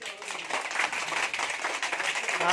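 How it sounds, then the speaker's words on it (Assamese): Preschool children clap their hands together in a classroom, a quick, uneven patter of small hands, moderately close and fairly soft, with faint voices mixed in. "হবলা হাত এখন তালি মাৰি দিয়াচোন।"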